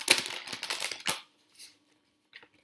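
Tarot cards being shuffled by hand in a fast run of papery riffling clicks, then a pause with a couple of faint soft shuffles near the end.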